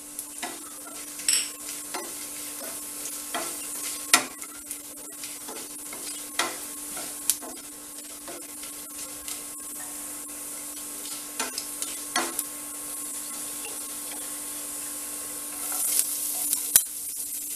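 Cumin, fennel and black pepper roasting in a little oil in a pan while being stirred, a soft continuous sizzle broken by scraping stirs and light clinks of the spoon at irregular intervals, close and without talk.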